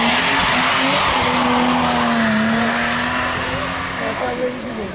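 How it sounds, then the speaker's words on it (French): Ferrari F430 race car engine roaring as it accelerates at a historic hill climb, loud and sustained with rising pitch, fading slightly toward the end. "C'est parti maintenant, dans quelques instants, pour la superbe Ferrari F430."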